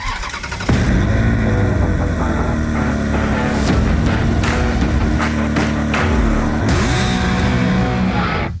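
Ferrari V8 and Lamborghini V10 exhausts, one engine firing up and holding a loud, rough idle with several sharp throttle blips, close by and with no talk over it.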